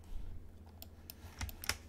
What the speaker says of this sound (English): I'm going to hit P on my keyboard, and I'm going to hit separate selection.